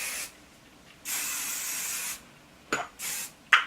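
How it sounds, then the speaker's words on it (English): Hairspray from an aerosol can hisses onto hair in short bursts: one longer steady spray, then a couple of brief puffs with light rustling between, close and clear without talk. "I'm going to give it one more spray."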